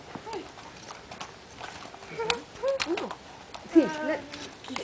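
Horse hooves clip-clop on the ground during a riding lesson in Gualmatán, with irregular steps close by under lively shouting and chatter from people nearby.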